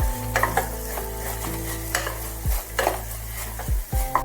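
Daliya being stirred with turmeric powder in a pan: repeated spoon scrapes and clinks over a low sizzle and a steady background hum, close by, with no one speaking.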